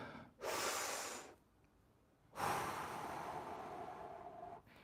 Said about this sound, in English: And now, one more big inhale and exhale.